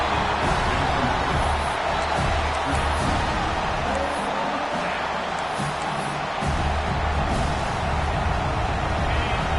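Steady stadium crowd roar in a college football video game at Washington, a dense, continuous wash of fans' noise on a fourth-down play, with faint play-by-play commentary talking over it throughout.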